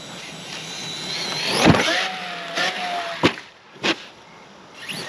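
A Traxxas Sledge 6S RC monster truck whines and surges on a ramp, its tires knocking against the body in a few sharp thumps over a steady electric motor hum, fairly close and loud.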